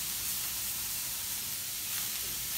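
Onions and garlic fry in a pan for a Cape Town moussaka, giving a steady, even sizzling hiss that holds at a constant level from start to finish.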